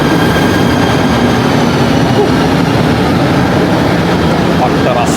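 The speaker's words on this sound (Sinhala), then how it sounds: "ට්‍රේන් එක ආවා" Train pulling into a station in Malaysia, with loud, steady rumbling rail noise and a continuous mechanical roar throughout.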